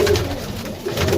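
A flying pigeon coos nearby in low, throaty repeated calls, loud at the start and again near the end, with no talking.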